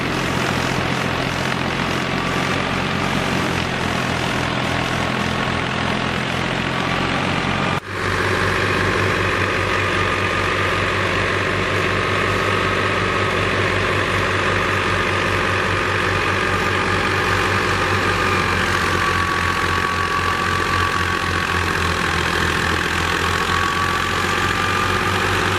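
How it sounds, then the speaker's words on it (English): A Ghazi tractor engine drives a wheat thresher, a loud steady mechanical drone with a constant low hum and whirring, briefly interrupted once then resuming unchanged for the rest of the stretch. "As the tractor moves steadily across the golden wheat fields, its engine roars with controlled power."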